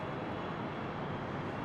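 A JetBlue Airways Airbus A320 on landing approach at LAX, arriving from Las Vegas, gives a steady, distant jet engine rumble that stays even throughout, with no voices.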